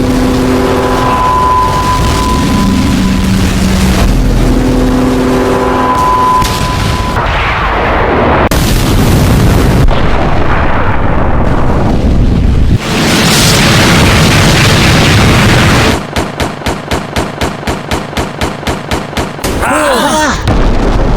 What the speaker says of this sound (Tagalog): Grabe, napakalakas naman ng pagkasabog na yon.